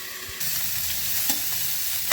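Cauliflower florets fry in hot oil in a pan, giving a steady, close hiss of sizzling that starts abruptly and carries on without any voices.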